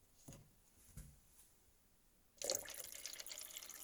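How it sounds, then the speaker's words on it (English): Water pours onto a stream table after a few faint drips, starting suddenly about halfway through and continuing as a steady close splash and trickle. "Gonna add more water."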